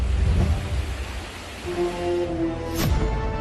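Heavy rain during flooding in Gujarat, a dense steady wash of downpour with a low rumble at the start and a brief sharper sweep near the end.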